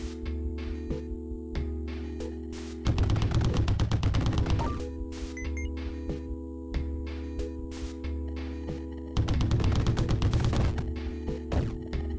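Rapid bursts of gunfire from the video game Dead Estate, two dense volleys of many close, loud shots separated by quieter stretches of steady game background sound.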